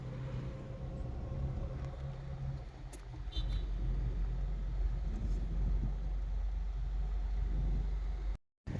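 A vehicle drives to a personal rental job, heard as a steady low road rumble and engine drone from inside the cab, with the sound briefly cutting out near the end.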